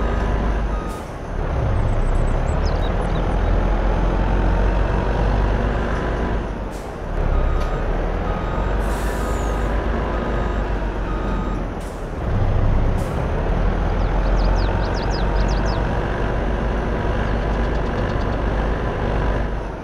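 A snow-plowing truck fitted with tire chains in Farming Simulator 22, its engine droning loud and steady with rising and falling revs, broken by several sharp air-brake hisses and faint beeps.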